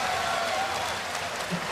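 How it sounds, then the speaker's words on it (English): Esports arena crowd at an LCS All-Stars League of Legends match between LPL and North America, cheering and applauding in a steady, loud wash throughout, with no clear talk over it. "you can hear the crowd"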